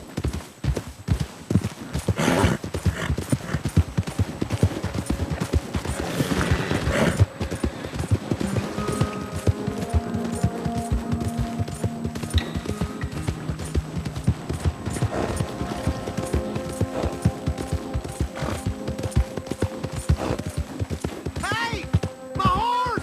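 Horse hooves clip-clop steadily in the video game Red Dead Redemption 2, a continuous rhythmic trot with an occasional whinny, running under bursts of game music and voices talking.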